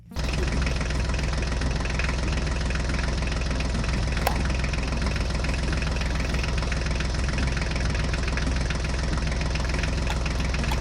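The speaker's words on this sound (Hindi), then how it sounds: "चलो चलो गोकू, जल्दी से अब ट्रैक्टर गाड़ी में बैठ जाओ।" A steady, loud tractor engine idles continuously with a low rumbling throb and knocking rhythm, unchanging from start to finish.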